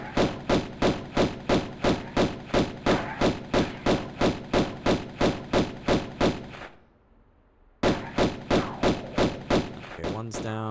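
Rapid, evenly spaced gunshots fired at enemies in a Tomb Raider video game, a long run of loud, punchy reports, then a brief pause before the shooting resumes at the same steady pace.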